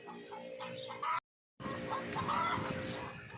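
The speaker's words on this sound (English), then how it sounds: "Another one cackling away," Wild hens cackle and cluck in a run after laying eggs, a faint, distant, continuous chatter of several birds with a short gap partway through.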